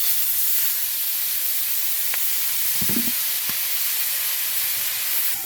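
Fish paturi wrapped in banana leaf sizzling in a wok over a clay stove, a constant soft hiss with a few faint clicks and a brief low bubbling burst near the middle, no speech.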